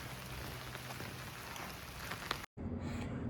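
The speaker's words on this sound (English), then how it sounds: "And it's raining lightly." Light rain falling on a pontoon bridge over the Tunga river, a steady soft hiss of drops that runs throughout and briefly cuts out near the end.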